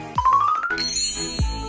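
Bright metallic jingle-and-ding tones, like a small sleigh bell, sound clearly alone in a short sequence of rising and sustained chimes, with a low thump near the end.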